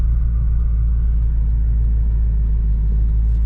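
A Chevrolet Corvette C7 gives a deep, steady engine rumble that is loud and close throughout, without any clear rise or fade as it passes and without voices.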